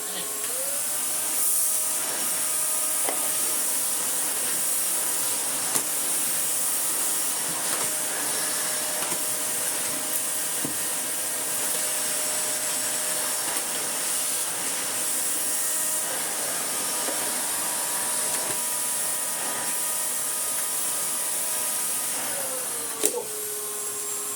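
A vacuum cleaner with a straight suction head drones steadily across a floor the whole time, loud and continuous, with a brief click near the end.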